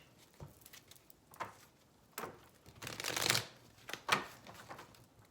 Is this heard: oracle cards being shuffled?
yes